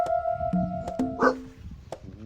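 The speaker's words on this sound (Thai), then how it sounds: "ป็นหมาเห่า" A dog barks several times in quick, uneven bursts, fairly close, mixed with tonal yips and whines over a noisy background.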